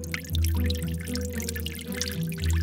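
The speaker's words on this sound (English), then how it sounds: "Time to water the plants." Water pours onto plants for watering, a close, fairly loud splashing stream with dripping and a low humming tone beneath, no talking.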